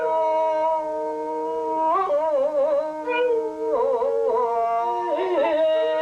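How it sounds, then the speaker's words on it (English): A dog howls along with a singer performing a Japanese folk song wishing calm seas for fishermen, long wavering howls rising and falling over sustained vocal tones throughout. "nobody sings the song with more passion than Big the dog"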